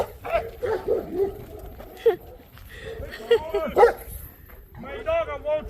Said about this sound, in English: My dog are well trained.